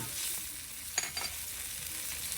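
Snakehead fish and celery stir-fry in a hot pan with a loud, continuous sizzle, marked by a couple of brief scraping stirs.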